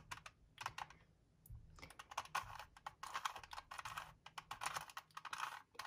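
Rapid plastic clicking and clacking in bursts as a 2x2 Rubik's cube is twisted repeatedly, close up with brief pauses between turns.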